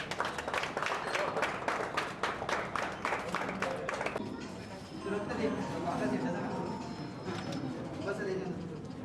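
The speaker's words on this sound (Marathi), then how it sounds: "सगळ्यांना टाळ्या वाजवायच्या" Guests at a birthday ribbon-cutting clap in a brisk, rhythmic burst for about four seconds before it gives way to chatter and crowd noise, with voices talking throughout.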